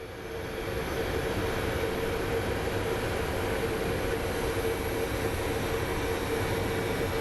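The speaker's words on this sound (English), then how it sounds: "here comes our United flight, so let's go take a look at it as it lands" A United airliner lands at Phoenix Sky Harbor, its engines giving a steady broad roar with a droning hum that stays constant and fairly loud throughout, with no voices.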